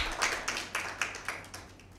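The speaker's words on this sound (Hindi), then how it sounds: "वेरी गुड टीम ए के लिए भरपूर तालियां" Applause for Team A at a Bible quiz with Sacred Heart Cathedral Girls School, a handful of rhythmic claps that fade over two seconds, with no talk over them.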